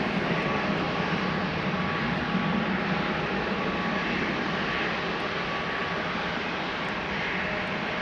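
A KLM jet departs Amsterdam Schiphol Airport for Rome, its engines giving a steady, loud roar that holds unbroken for the whole stretch with no voices over it.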